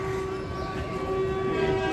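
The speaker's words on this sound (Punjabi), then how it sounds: "ਟ੍ਰੇਨ ਦੇਖ ਲਓ ਟ੍ਰੇਨ ਜਾ ਰਹੀ" A train passes by, its horn holding a loud, steady tone over the rumble of the rail cars for the whole short stretch, with no talking.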